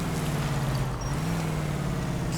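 A car engine accelerating in the video game L.A. Noire, a steady low droning hum that rises slightly in pitch, continuous and fairly loud throughout.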